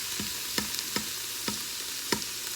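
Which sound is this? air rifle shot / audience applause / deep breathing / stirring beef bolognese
stirring beef bolognese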